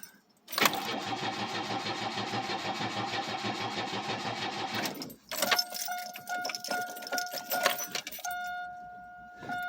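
A flooded car engine cranks on a cold start with a long, even, rhythmic starter whir, then stops. Keys jangle and clatter afterward amid faint mechanical noises and a steady tone.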